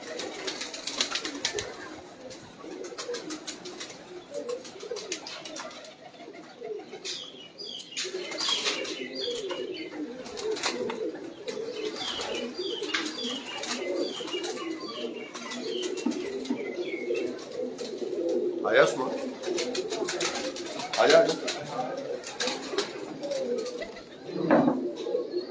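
Pigeons coo steadily through a loft or yard, a low murmuring bubble with occasional wing flaps and chirps, close and continuous, with a voice speaking at times.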